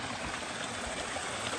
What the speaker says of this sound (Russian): Видите, источник воды, источник жизни.